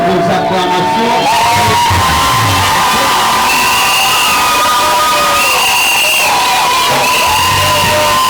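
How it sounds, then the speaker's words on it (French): Wedding guests cheer for the groom with loud, sustained whoops, shouts and high-pitched cries from a packed crowd, close and continuous, with a few claps mixed in. "sous vos acclamations"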